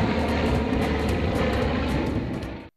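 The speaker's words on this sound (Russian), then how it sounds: "Самолет не только взлетел, но и благополучно приземлился." A propeller airplane that has just landed at Yakutsk on a fishing expedition roars steadily and loudly at close range, engine drone broad and continuous before cutting off abruptly near the end.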